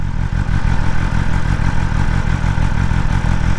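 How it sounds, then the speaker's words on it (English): A 2022 BMW M1000RR superbike engine runs steadily and loud up close, a continuous throbbing idle with rapid mechanical clatter, no talking over it. "So at first you start your engine."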